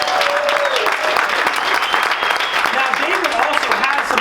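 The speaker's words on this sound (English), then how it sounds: "Give him a round of applause for that as well" An audience gives a steady, sustained round of applause at a conference breakout session, dense and even throughout with faint voices mixed in.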